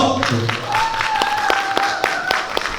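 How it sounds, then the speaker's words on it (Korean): Audience applause at a celebratory concert performance during a university entrance ceremony, a short burst of scattered claps in a hall with a sustained tone underneath. "여러분들 박수 소리에 따라서 이번 무대에 팬이 달라집니다"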